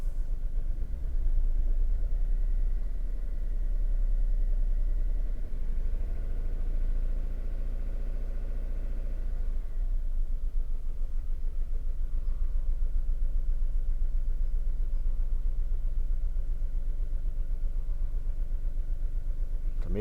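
A BMW car engine warms up close by at a steady low idle, lifting in one gentle rev partway through before settling back into a continuous rumble, with no talk.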